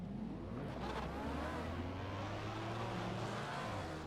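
A Fiat 500 engine in the racing game Assetto Corsa drones steadily with a low rumble, rising slightly as it revs, close and continuous with no voices.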